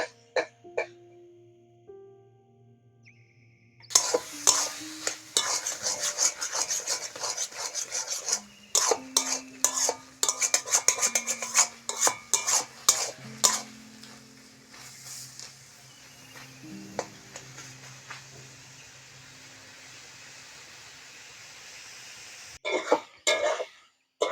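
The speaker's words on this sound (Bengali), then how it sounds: "কচুর রস মারতে গেলে এইরমভাবে খেলিয়ে দেবে তাড়াতাড়ি রসটা মরে যাবে" Taro leaves being stirred and turned in a dry pan, giving a harsh rasping scrape in bursts with quiet gaps, close and fairly loud, with no talking.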